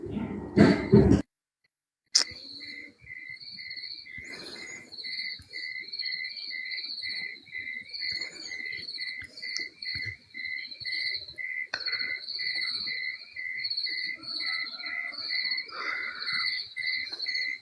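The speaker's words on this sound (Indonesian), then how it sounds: "Kok ada suara jangkrik bang, krik lama kali." Crickets chirp in a steady, rapid rhythm that carries on almost the whole time. A loud brief burst and a moment of silence come first, with faint scattered background noises underneath.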